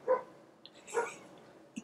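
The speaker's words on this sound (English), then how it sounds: "The freaking dogs." Dogs bark twice at moderate distance, two separate muffled woofs about a second apart, followed by a faint short yip.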